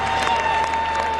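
Steady wash of crowd noise and applause from a packed baseball stadium, Busch Stadium in St. Louis, during a 2000 NLCS playoff game, continuous and fairly loud, with a sustained tone running through it.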